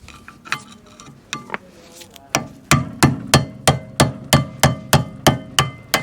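Repeated sharp metal strikes with a crowbar on a rear disc brake part of a MK1 Ford Focus, starting irregular then settling into a steady, loud, evenly spaced hammering rhythm.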